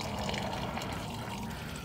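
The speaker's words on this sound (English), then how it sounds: "You just open up that valve and it'll just start draining." Water drains from an RV fresh water tank through an open drain valve, a steady close trickling and splashing flow with no break.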